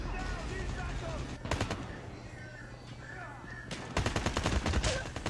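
Bursts of gunfire from the mobile shooter game Call of Duty Mobile, two rapid volleys of loud close shots separated by quieter game ambience, with a voice talking over part of it.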